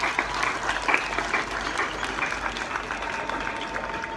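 Dense, steady applause fills the hall at a charity concert, a crowd clapping continuously at close range with no other sound standing out.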